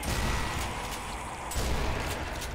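Rapid gunfire in Sniper Elite Nazi Zombie Army, a string of muffled booming shots and pops at moderate loudness, with a heavier burst midway.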